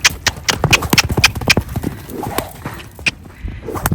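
Loose horse running nearby, hooves clip-clopping in quick, irregular beats across the ground, loud and close, with a soft breathy snort among the steps.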